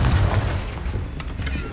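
A Confringo fire spell exploding during a Hogwarts Legacy duel, a deep booming blast followed by rumbling bursts and a couple of sharp cracks, loud and close.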